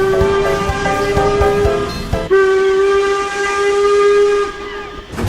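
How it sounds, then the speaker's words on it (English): Low-pitched steam whistle of a 0-4-0 saddle tank engine in a railway video game, loud and close, two short toots followed by a long sustained blast with a breathy hiss underneath. "Knickerbocker comes equipped with a lower pitched sounding whistle."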